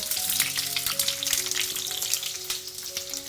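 Large chopped onions frying over high flame in hot mustard oil, a dense continuous sizzle and crackle close up, with a few steady tonal hums running underneath.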